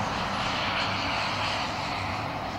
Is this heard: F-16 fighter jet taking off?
yes